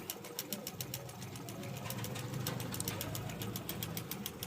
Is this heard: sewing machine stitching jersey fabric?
yes